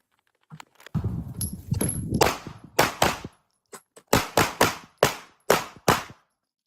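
Gunshots ringing off steel shooting targets, a few loud sharp cracks at first, then a steady series of single shots each followed by a metallic ping, spaced about half a second apart, close and clear with no talking.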